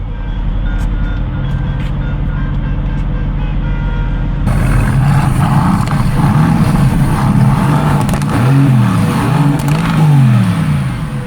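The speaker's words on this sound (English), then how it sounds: "Now the exhaust will be in loud mode." A Mercedes-AMG GT S exhaust in loud mode idles low, then abruptly bursts into a louder, rasping roar with repeated rising and falling revs, close and alone.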